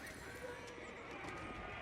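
Horses of a horse archer army in the Age of Empires 4 battle neigh and whinny among thudding hooves, the calls blending into a dense, busy battle din with a voice talking over it.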